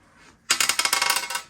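Dice clatter onto a hard surface during a family board game night, a sharp burst of about a dozen quick rattling bounces that fade out within a second.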